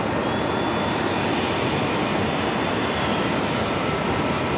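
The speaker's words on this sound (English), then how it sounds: "It's a 19-year-old A320." A 19-year-old JetBlue Airbus A320 at JFK airport roars with a loud, steady jet-engine rush that holds unbroken throughout, with no voices over it.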